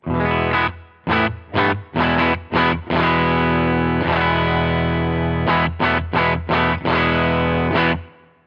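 A distorted electric guitar through a Line 6 Stadium XL amp with a '63 spring reverb plays chopped, rhythmic chords and sustained notes with a washy reverb tail, loud and alone.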